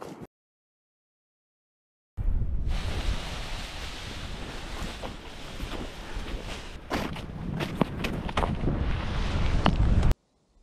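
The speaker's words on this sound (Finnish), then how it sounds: "Tässä tuulee pikkuvire nyt." A light breeze buffets outdoors during kite skiing in Kainuu, Finland, after a short silence, a steady rough rumble with gusty flutters that grow a bit stronger toward the end.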